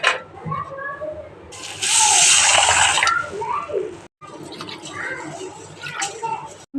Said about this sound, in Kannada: ರೈಸು ಬೇಳೆನ ವಾಶ್ ಮಾಡ್ಕೊಳ್ಳೋಣ.